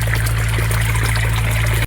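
Water gushes steadily from a newly drilled village borewell pump, a loud continuous rushing stream with a low motor hum beneath, cutting out abruptly near the end.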